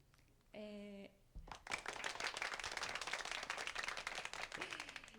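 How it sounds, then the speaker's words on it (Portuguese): Applause closing a Portuguese-language podcast episode: a short tonal sound at the start, then dense, steady clapping from about 1.5 seconds to the end, fairly loud and continuous. "E uma salva de palmas para esse nosso podcast de hoje."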